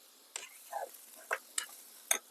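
A spoon stirs a village-style goat curry base of ground spice paste made with coriander, cinnamon, cloves, garlic and ginger in a pot, giving a few separate soft scraping strokes over near silence.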